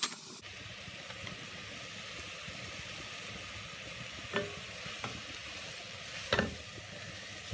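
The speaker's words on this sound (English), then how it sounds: "And so you want to saute these down a little bit." Leeks sautéing in butter in a pan for cock-a-leekie soup give a steady, gentle sizzle with occasional stirring scrapes and clinks, moderately close and alone without talk.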